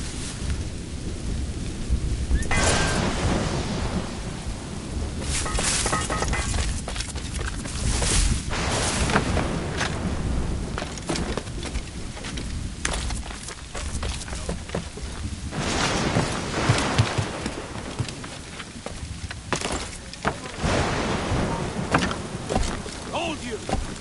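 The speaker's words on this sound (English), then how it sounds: "The storm's getting worse." In the Assassin's Creed Rogue video game, a thunderstorm rolls on with steady rain hissing and repeated rumbling thunderclaps swelling and fading over a continuous stormy backdrop.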